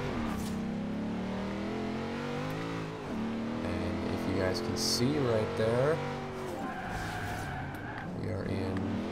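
A Nissan Skyline GT-R engine revs and accelerates in Forza Horizon 2 during a street race, with rising and falling gear sweeps and brief tire squeal under someone talking throughout.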